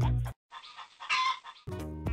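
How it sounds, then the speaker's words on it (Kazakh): A cartoon chicken squawks and clucks in alarm as a fox carries it off, loud bursts at either end framing a broken, scratchy middle stretch of fluttering calls. "тауықты ұрлап әкетіпті."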